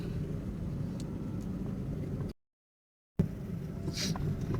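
Steady low rumble of a car engine heard from inside while driving along a grassy rural road lined with kash flowers in Uttara Diabari, with a brief dropout of silence midway and no talking.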